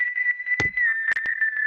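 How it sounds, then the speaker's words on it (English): A sustained high whistling tone holds steady, washed in long reverb, with a few brief clicks and a soft thump partway through. "This whistling sound has a huge reverb on it just in the plugin"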